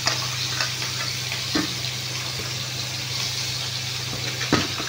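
Hilsa and bhetki fish frying in a pan give a steady, close sizzle with a low hum beneath and a few faint clinks.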